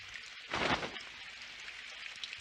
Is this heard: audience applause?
no